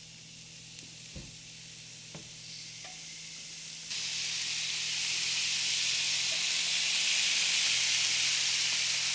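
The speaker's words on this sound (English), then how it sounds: "we're just gonna sear this" Steak sears in a hot pan greased with cooking spray, a few faint taps first, then a steady loud sizzle swelling and holding with constant hiss.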